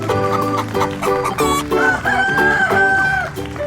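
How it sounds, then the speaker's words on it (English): A farmyard chicken clucks and crows loudly and up close in a busy run of repeated calls lasting several seconds, with no talking. "And chicken says, cluck,"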